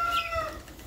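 Hens cluck at a backyard coop where broody hens sit on eggs, a few short nasal calls close by, fairly soft and brief.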